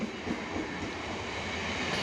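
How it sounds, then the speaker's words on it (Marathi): A Mumbai suburban local train pulls into Marine Lines station, a steady loud rumble of rolling wagons and rail noise filling the space with no voices over it. "ट्रेन पण आलेली आहे"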